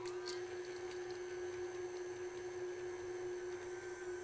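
A stand mixer with a dough hook turns on low through chocolate chip cookie dough, giving a steady, even motor hum that holds unbroken and fairly close throughout, with no talking.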